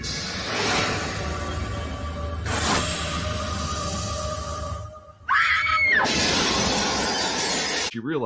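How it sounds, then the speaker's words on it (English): A woman screams in a tense scene from the TV series Kindred: the Embraced, with a loud, sustained shriek that rises sharply partway through over a shattering, crashing background of dramatic effects and music. "She's just screaming."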